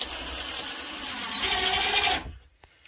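Power drill driving screws into a drywall patch over a water access panel, a steady whirring buzz for about two seconds that stops abruptly, with no talk.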